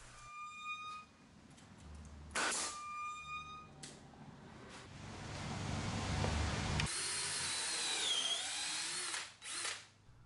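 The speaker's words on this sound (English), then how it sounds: "Pre-drilling as a preparation for the leg screws." Power drill pre-drilling holes for leg screws while building overhead shelves on parallel ceiling joists, a whirring run that rises and stops, then a longer loud grinding bore close by, no talking.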